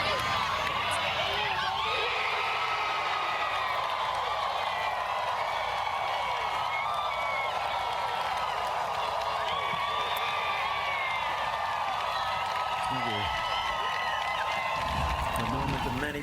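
Spectators at the Solheim Cup golf event cheer and clap in a sustained, moderately loud swell lasting several seconds, with a commentator's voice running over the crowd noise.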